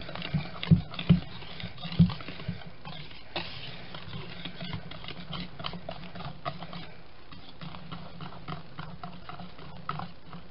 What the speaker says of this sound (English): Whisk and make sure that everything is well mixed together